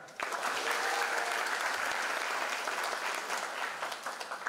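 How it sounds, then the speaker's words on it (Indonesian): Audience applause at the opening ceremony of a university teacher-training program: dense, continuous clapping from a large crowd, steady and fairly loud throughout, with no talking over it. "Tepuk tangan."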